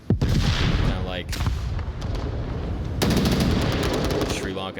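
Rapid bursts of gunfire in a virtual reality shooter game, dense crackling volleys that pause briefly and then resume, with a commentator's voice running underneath.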